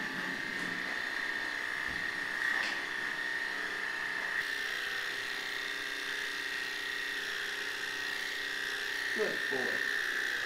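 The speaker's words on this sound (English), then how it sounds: "easier to manoeuvre these little clippers for awkward spots like the chin" Small electric clippers buzz with a steady high hum while trimming fur under a dog's chin, close and continuous, as someone speaks softly to the dog over the sound.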